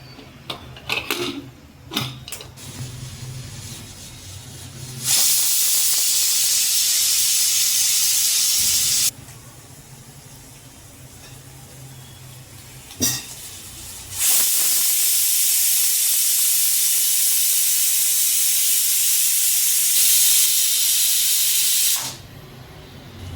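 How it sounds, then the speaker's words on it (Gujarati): A pressure cooker cooking khichdi releases loud steady hissing steam in two long whistle blasts, separated by quieter stretches with a few clattering knocks. "હવે ઢાંકણ ઢાંકી દેશું ફક્ત બે સીટી જ વગાડવા દેશું"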